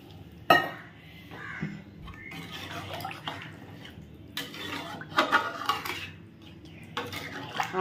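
Water is poured into a pan of potato curry cooked with ginger-cumin paste, a splashy wash among scattered clinks and clatters of pots and utensils, close by with no talk.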